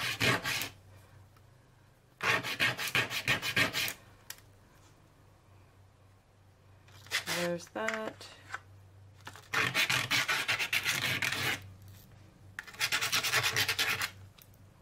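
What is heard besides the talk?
hand sanding the ends of craft pieces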